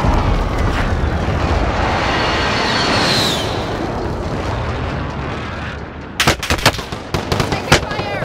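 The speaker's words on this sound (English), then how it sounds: "Friendly precision airstrike inbound." Precision airstrike explosions in Call of Duty Warzone, a long, rumbling roar of blasts with a whistling sweep, followed by several sharp, loud bursts of gunfire near the end.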